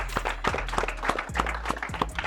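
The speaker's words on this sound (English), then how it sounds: "round of applause to everybody in here" A live studio audience at a talk show applauding, a steady spread of many hands clapping at close range with no break.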